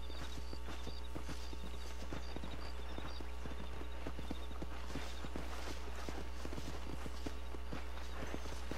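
Horse hooves clip-clop at a steady walking pace on a ranch in the Red Dead Redemption video game, a continuous rhythmic patter of hoofbeats over a low constant background hum, with no talking.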